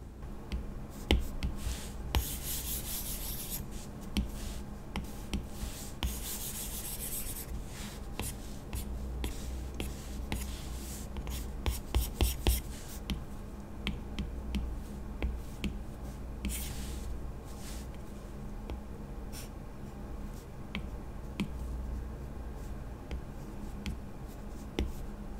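Stylus drawing on an iPad Pro fitted with a matte screen protector: steady, close scratchy strokes and light taps continue throughout, with brief sharper bursts and no talking.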